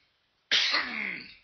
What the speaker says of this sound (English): still have this messed up cough